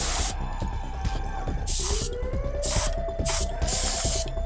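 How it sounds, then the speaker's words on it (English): An airbrush sprays light gray paint onto a miniature model canopy in repeated loud hissing bursts, each lasting under a second, alongside a steady compressor tone and mechanical clicking. "I'm spraying this with pure light gray"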